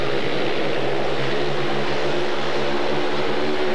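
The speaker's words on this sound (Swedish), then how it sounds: "All kraft i motorn, och så släpp kopplingshandtaget" Speedway motorcycle engines revving at the start of a 1996 Grand Prix race in Wroclaw, a loud, dense, continuous roar of several engines blending into one sustained buzzing drone.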